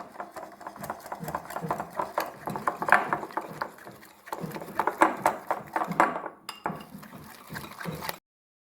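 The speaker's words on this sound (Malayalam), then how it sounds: "അപ്പോൾ ഇതിലൊരല്പം ഉപ്പ് കൂടിയിട്ട് നമുക്കിനി നന്നായിട്ട് ബീറ്റ് ചെയ്തെടുക്കാം." Chicken fry batter with semolina and salt is beaten by hand in a bowl, giving quick, irregular clinking and slapping strokes in bursts with short pauses, close and moderately loud, while a voice talks throughout.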